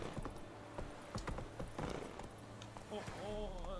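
Horse hooves clip-clopping in The Witcher 3, a few irregular thuds close by mixed with other game sounds, ending in a brief tonal whinny-like sound.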